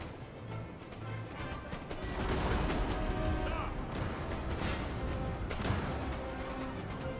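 Medium cannon artillery firing in the video game Napoleon Total War, heard as a dense, distant battle din of booms and crashes, with faint voices mixed in.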